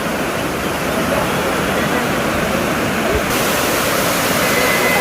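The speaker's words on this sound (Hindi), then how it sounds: "कितना खूबसूरत झरना यहाँ से बहता हुआ आपको दिखाई दे रहा है।" A waterfall at Sonmarg pours in a loud, continuous rushing roar, a dense and steady wash of water noise that fills the whole moment without any pause.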